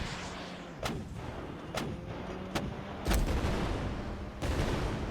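Weapon primary fire from a combat vehicle in the Diesel Guns vehicular game: sharp gunshot-like bangs come at irregular intervals, roughly five shots, each a loud crack over steady engine drone.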